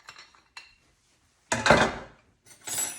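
A dry martini poured into a glass mixing pitcher: two faint clinks of glassware, then a loud close clattering pour lasting under a second, and a second shorter clinking pour near the end.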